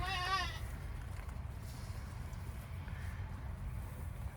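Goats bleat in a short wavering call at the very start while being fed, then fall quiet over steady low wind-like rumble for the rest.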